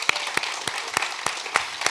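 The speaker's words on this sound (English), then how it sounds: "Can we please give them a huge round of applause?" Steady, evenly spaced hand claps at an awards ceremony for a Little Tokyo short story contest, a handful of crisp beats at roughly three per second, close and moderately loud.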